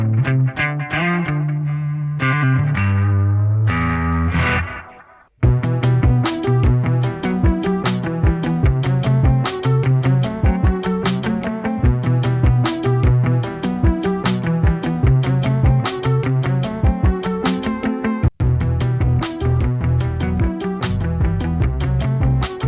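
Electric guitar played through a repaired 2000s Peavey bass amp with a slightly distorted tone: a brief passage of sustained notes, a short pause, then a long run of fast, rhythmic picked chords and riffs, loud and close, with no talking.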